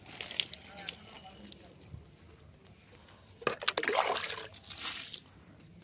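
Garden plants, including eggplant plants, are watered on a hot, sunny day. Water splashes and trickles in a short burst midway, with quieter dribbling and faint background voices around it.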